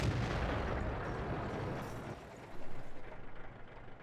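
A TOG II tank cannon fires at a Hellcat in the World of Tanks video game, giving a loud booming blast that fades into a rumbling tail, followed by lighter rattling impacts.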